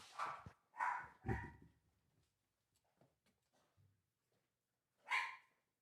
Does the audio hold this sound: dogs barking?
yes